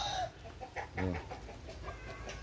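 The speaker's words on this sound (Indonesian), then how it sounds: "Nah, ini kita juga untuk beternak ayam." Chickens cluck on an agroforestry farm planted with nyamplung and banana, giving a few short, faint calls over a steady outdoor background.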